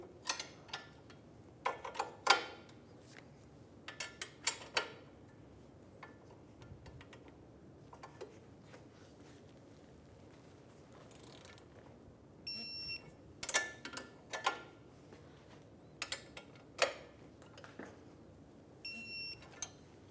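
A torque wrench tightens the ball joint nut and bolt on a 2000-2007 Ford Focus front suspension, giving sharp clicks and metallic ticks in scattered clusters with quiet gaps between them, close and fairly faint, and no voices.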